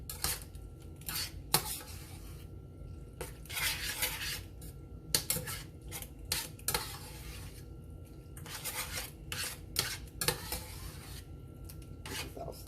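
A spoon scrapes and knocks through a thick cheeseburger casserole mixture of ground hamburger in a pan, giving irregular close metallic clinks and rubbing strokes over a low background hum.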